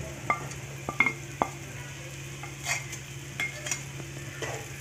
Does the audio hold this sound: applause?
no